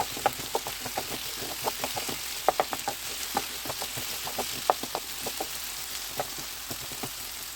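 Potato pieces frying in oil with turmeric and curry leaf powder, a soft continuous sizzle dotted with many small pops and crackles in an irregular rhythm, fairly quiet and close, no voices.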